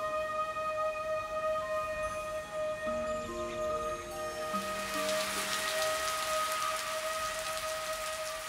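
Rainy-season rain falls over the flooding lowlands of the Mekong delta in Vietnam. A steady, soft hiss of rain continues throughout, with faint sustained tones beneath it and more intensity toward the end.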